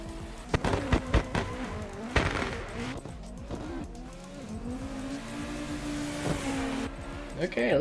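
Race cars run on a track with engine drone rising and falling, tire squeals and skidding over a steady motor hum, while a voice talks over it.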